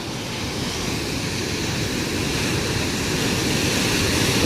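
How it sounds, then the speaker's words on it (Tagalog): Sea waves wash in a steady, broad roar of surf that grows slightly louder, heard alone with no voices. "Oh, may alon!"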